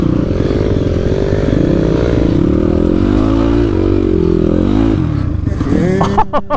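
A motorcycle with no rear brake rides slowly through thick mud, its engine droning steadily and loudly close by with some clatter, before a sharper rev near the end.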